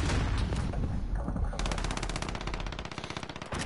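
Rapid gunfire rattles through a Call of Duty Modern Warfare match, a dense, loud burst that gives way to a steady fast stream of shots, with no talking over it.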